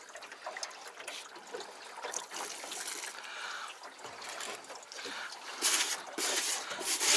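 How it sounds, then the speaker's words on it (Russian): Faint trickling and splashing of water being poured little by little into dry fishing groundbait and mixed in, soft and close, with small rustles and scrapes. "Потихоньку добавляю воды."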